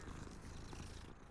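Cat purring in the video game Hogwarts Legacy, a steady low rumbling purr that carries on evenly and fairly quietly for the whole moment, with no talking over it.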